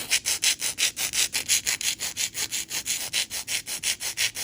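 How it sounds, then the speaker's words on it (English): Quick, rhythmic rasping strokes of a file reshaping acrylic nail tips, repeating steadily at close range with no voices. "Now I'm going to reshape the nail tips a little."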